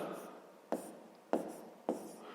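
A pen writes on paper during a fifth-grade maths exercise, producing a steady soft scratching with three sharper taps or strokes spaced through it, close and quiet, with no talk.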